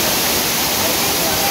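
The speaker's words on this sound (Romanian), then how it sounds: "continuă să mă surprindă cascada asta" A jungle waterfall in Bali roars as steady, dense broadband rushing water, loud and continuous, filling the whole moment without a break.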